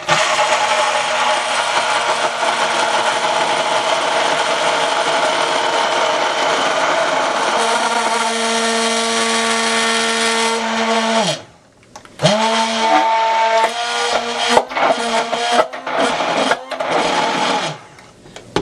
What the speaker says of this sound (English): So, take my immersion blender,